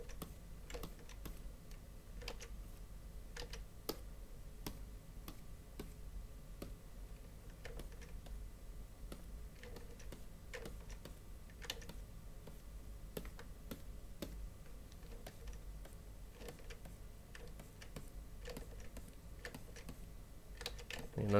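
Computer keyboard keys are pressed during digital painting, including Control and Alt shortcuts: sparse, irregular, crisp clicks under a quiet room hum, with no talking.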